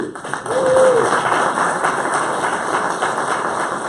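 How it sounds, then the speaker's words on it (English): Applause from a municipal election debate audience for the candidates, a dense continuous wash of clapping at steady loudness throughout, with a voice briefly audible over it. "And let's give another round of applause for all of you."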